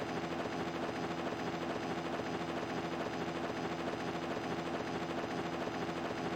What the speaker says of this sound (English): Their transport chopper is rapidly approaching.